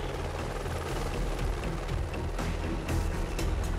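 A rescue helicopter hovers close by over a swelling mud torrent, its rotor thumping in a steady, loud, continuous beat that fills the scene without any talk.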